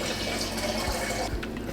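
Water runs steadily into a bottle from a tap, a continuous close splashing rush with a slight shift in tone near the end.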